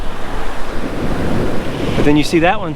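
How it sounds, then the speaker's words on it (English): Ocean waves surge and wash onto a beach at a Los Cabos resort, loud and close with heavy wind buffeting the microphone, before someone speaks briefly near the end. "where the waves kind of break"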